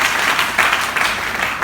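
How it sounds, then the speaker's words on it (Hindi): Audience applause at a training program session, a dense, steady burst of many hands clapping together, close and loud throughout. "तालियां हो जाए साहब के लिए"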